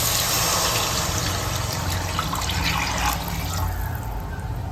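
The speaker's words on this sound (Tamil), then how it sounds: "இப்போ தண்ணி சேர்த்துக்கலாம்." Water pours steadily into a hot pan of oil for paneer dum biryani, a continuous hissing splash that runs without a break for a few seconds.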